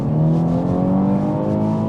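A 2020 MINI Countryman JCW ALL4 accelerates with its exhaust flaps closed in quiet mode, a smooth, steady engine drone rising in pitch from inside the car, with no talking.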